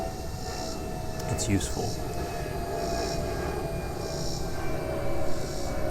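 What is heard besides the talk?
airplane flying overhead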